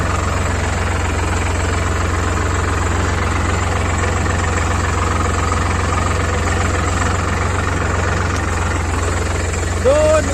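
A Sonalika tractor engine runs nearby with a steady, loud, low chugging drone that holds unchanged throughout, with a slight vibrating rattle on top.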